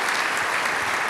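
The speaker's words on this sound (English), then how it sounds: "Applaud them, brother and sister." Dense, steady applause from a church congregation, many hands clapping together at an even loud level throughout.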